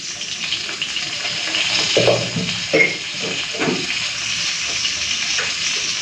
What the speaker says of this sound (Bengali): তো কালো জিরে হালকা করে ভেজে নিয়েছি, এখন দিয়ে দেবো বেগুন।